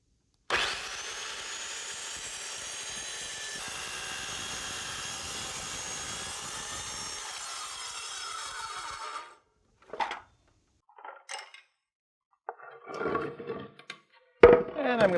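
A power saw cuts through 2x6 wood boards for nightstand side pieces, one long steady cut of about nine seconds. Short clunks and handling noises of the boards follow.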